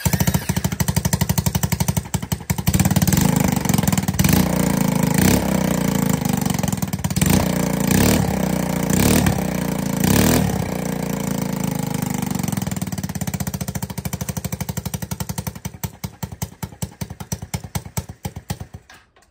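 An ATK 125 go-kart engine fitted with a homemade muffler runs loud and rough close by, a steady hammering chug with uneven pulses that lasts throughout, with no talking over it.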